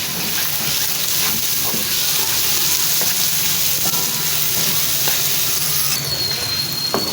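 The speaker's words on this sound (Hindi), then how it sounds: "अब बारी आती है मटरों की, उनको भी भून लेते हैं।" Green peas frying in a pan with tomatoes for white rice with peas give a steady, close sizzle that crackles unbroken for the whole stretch, with no talking over it.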